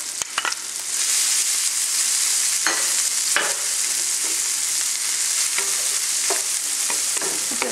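A shallot sautéing in a pan, a steady bright sizzle that swells after the first second and holds, with occasional utensil taps and stirring scrapes.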